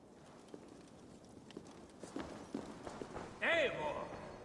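Steady clip-clop of horse hooves at a trot in the video game Assassin's Creed Valhalla, fairly faint, with a voice speaking over the later part.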